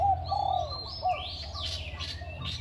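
A red-whiskered bulbul, a mid-sized songbird, sings nearby in quick whistled phrases and rising chirps, with a low steady hum underneath.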